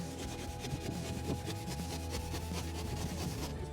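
A hand saw cuts through a PIR insulation board on an old stone barn roof, making continuous close rasping strokes with a steady back-and-forth rhythm and no talking.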